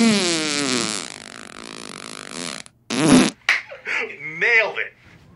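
A long, loud, sputtering fart rumbles for a couple of seconds, followed by shorter bursts and voices talking.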